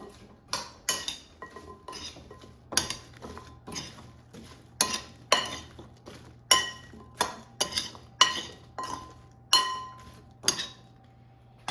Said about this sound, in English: And now toss them so they're evenly coated with oil and seasonings.